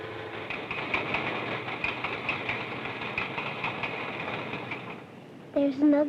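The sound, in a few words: commuter train passing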